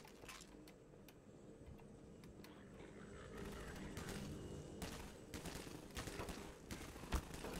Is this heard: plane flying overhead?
no